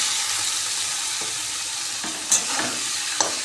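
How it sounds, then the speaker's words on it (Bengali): Chowmein noodles tossed with fried egg in a pan give a steady hiss of frying, broken by a few clinks and scrapes of the spatula, with no talking. "চাউমিনটা দিয়ে ভালো মতো নাড়াচাড়া করবো"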